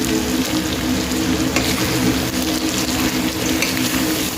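Chicken butter masala frying in a pan, a steady dense sizzle with faint stirring scrapes running throughout at close range, no voices.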